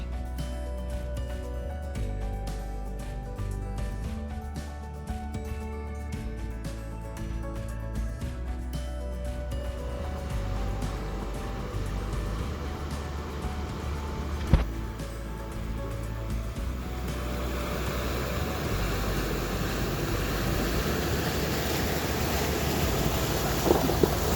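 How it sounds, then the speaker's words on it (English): Continuous rushing and churning of creek water as a vehicle drives through a creek crossing on a Kentucky trail, engine rumble and wind buffeting, growing noisier and more splashy toward the end. "And on to more creek crossings."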